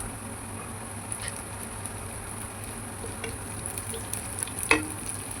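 Curry leaves and onion sizzle quietly in hot oil while cooking Kerala-style egg fried rice, a soft continuous crackle with a few sharper pops near the end.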